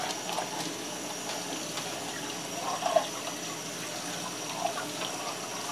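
Water runs steadily from a hose or tap, splashing into an aquarium tank with a continuous hiss and occasional brief splatters, and no one speaks.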